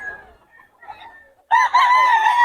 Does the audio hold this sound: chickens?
yes